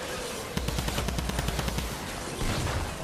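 Rapid automatic fire from the Sunbeam Fire Typewriter gun in Fortnite, a fast steady rattle of close, loud shots lasting about a second and a half, with another burst near the end over a busy battle background.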